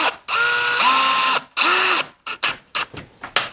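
A power drill drives a screw into the wooden frame of a garden pergola, two sustained whirring bursts that rise and fall in pitch, followed by shorter clicks and taps, close and loud.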